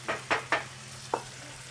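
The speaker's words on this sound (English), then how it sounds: "We'll let the lemon juice cook down just a little bit." Lemon juice cooking down in a hot pan, a few soft sizzling swishes of stirring over a low steady hum, close and quiet.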